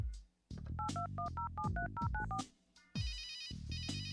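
A telephone being dialed in the video game Runaway: A Road Adventure, a quick run of touch-tone beeps, then a bright electronic ring repeating twice, close and clear with no talk.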